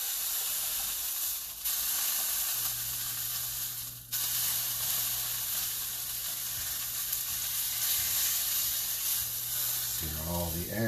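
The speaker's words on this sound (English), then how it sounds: "Sear all the edges, get all that juice in." Meat sears in a hot pan with a loud, steady sizzle and hiss that runs the whole time, with a low hum joining partway through and a brief stir or clatter near the end.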